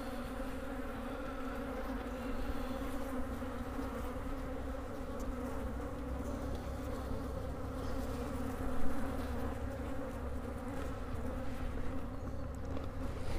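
Honey bees swarm in a steady, dense buzz inside an opened hive during a January check, where the queen from 2019 moves across the frames; the hum stays close and constant throughout with no voices.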